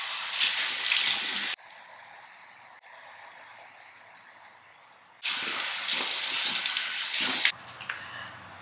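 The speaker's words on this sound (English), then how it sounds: "I'm gonna wash my face." Water runs from a tap while a face is washed, loud bursts of rushing flow at the start and again later, separated by a quieter stretch of drips and splashing.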